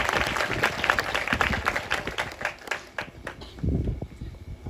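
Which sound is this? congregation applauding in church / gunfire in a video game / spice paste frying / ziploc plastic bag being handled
congregation applauding in church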